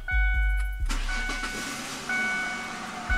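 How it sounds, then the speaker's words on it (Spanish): A car engine is started with the fuel pump inertia cut-off switch bypassed by jumpering its wires: a brief close cranking burst, then the engine catches and settles into a steady loud idle with a couple of small revs, no talk. "Como puedes ver, el auto enciende."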